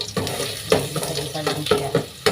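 Garlic sautéing in a little oil in a rice cooker pot, with irregular sharp stirring scrapes and clinks over a soft sizzle, close and fairly loud, recurring about every half second.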